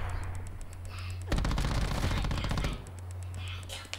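Rapid automatic gunfire from Call of Duty Black Ops 4 erupts loudly mid-clip for about a second and a half, a dense stream of close shots between quieter stretches of game ambience and faint talk.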